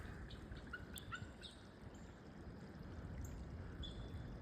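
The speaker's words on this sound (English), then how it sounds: "Beautiful bird though." A bird calls in the woods with a few short, scattered chirps over a steady trickling, stream-like background, fairly faint and with no talking.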